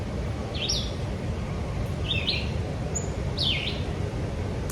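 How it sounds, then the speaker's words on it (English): Several birds sing in a woodland, with three or four bright, clear chirping phrases at moderate distance over a steady bed of low background noise. "Listen to these birds."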